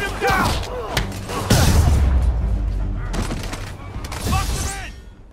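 Gunfire and heavy impacts in the Spider-Man game: a loud burst of booming shots and thuds, with scattered shots and crashes around it and shouted voices over the action.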